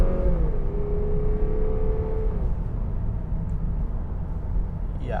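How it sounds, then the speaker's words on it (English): A 2020 Lexus IS 300 F Sport Blackline Edition with its 2.0-liter turbocharged four-cylinder pulls under throttle from inside the cabin, a steady hum with a rising then levelling engine tone and faint turbo whoosh. "It's got a little whooshy little sound coming through when you kind of get on the throttle there."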